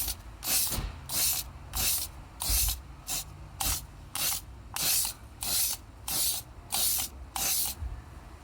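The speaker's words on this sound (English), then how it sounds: "now I'm gonna hit it with my Rust Oleum metallic paint primer in one" Repeated short bursts of aerosol spray as Rust-Oleum metallic paint primer is sprayed onto a motorcycle helmet, about a dozen hissing blasts in a steady rhythm with brief gaps, close and alone.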